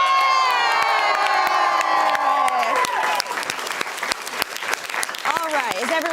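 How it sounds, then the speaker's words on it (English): Studio audience at a live comedy show applauds and cheers loudly for a newly introduced host, a dense wash of clapping with whoops and shouts, some high-pitched, that carries on throughout and thins slightly toward the end. "let's give a big round of applause for our new host, AJ Rubinetti!"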